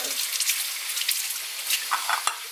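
Pork fries in a hot pan with a steady bright sizzle and crackle, punctuated by a few louder pops and spits, close and continuous.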